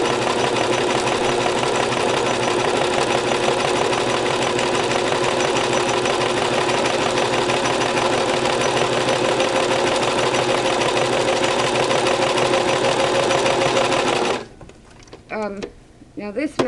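A Brother LX3014 sewing machine stitches a seam on a five-layer face mask, a steady, close, continuous mechanical whir running for about fourteen seconds before stopping, followed by faint handling sounds.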